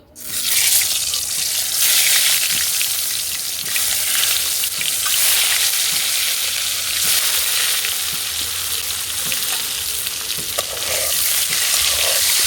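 Eggs frying in hot oil with salt and turmeric, a loud, dense, continuous sizzle with crackling that holds steady close up throughout.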